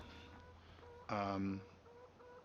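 A chicken gives a single drawn-out cluck amid low background hum in the video game Farming Simulator 15, near and brief.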